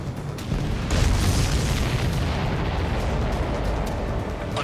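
A destroyed target explodes in Ace Combat 7, a loud, dense, roaring blast that swells after the first second and rumbles on steadily without fading.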